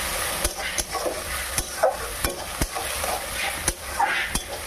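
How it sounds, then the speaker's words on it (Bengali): Garlic frying in oil in a home kitchen pan gives a steady close sizzle, punctuated by regular scraping strokes of a stirring spoon against the pan. "রসুনটা ভাজা হয়ে গেছে"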